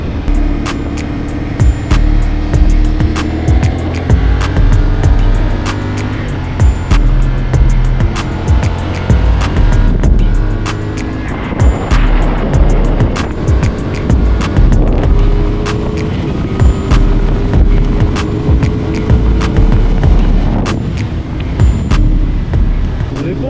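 A CF Moto 450 SR TC motorcycle is ridden on a road. The engine drones loudly and close, its pitch rising and falling through the gears, with constant wind rush over the microphone.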